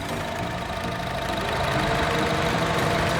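A 2016 Honda BR-V E Prestige engine idles steadily close up, a continuous even running drone with no talking.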